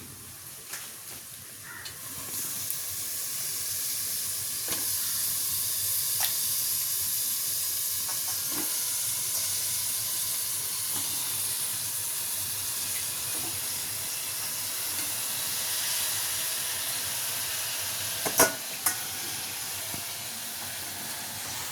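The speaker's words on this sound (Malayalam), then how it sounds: "ചിക്കൻ ഇതാട്ടോ നേരത്തെ തിരുമി വെച്ചതാണ് അത് ചേർത്ത് കൊടുക്കാം" Marinated chicken fries in spicy masala for a kanthari chili chicken curry, with an even, sustained hiss and sizzle throughout and a couple of sharp utensil taps late on.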